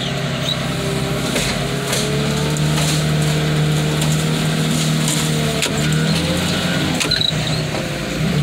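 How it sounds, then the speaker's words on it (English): Heavy machinery crushing a car in a swampy yard, a continuous loud grinding, creaking rumble with metallic crunches and snaps, steady engine drone underneath throughout. "Let's crush some cars."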